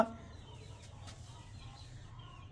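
An Aseel rooster gives a few soft, brief clucks close by over a steady low background hum, with no talk.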